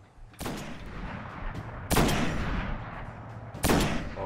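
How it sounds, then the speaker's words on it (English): Gunfire in the shooter game Destiny: three loud, booming bursts of rapid shots about two seconds apart, each trailing into a sustained rumble of continuing fire, with no talking. "Giving you cover and fire."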